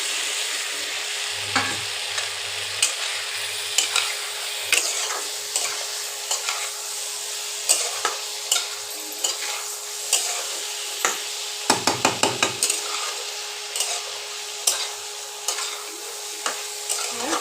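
Boiled soya chunks are stirred and fried in a pan for an egg and soya curry, with a constant close sizzle and a long run of regular scraping strokes, including a quick burst of rapid taps near the twelve-second mark.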